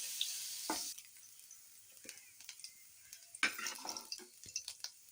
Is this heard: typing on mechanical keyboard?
no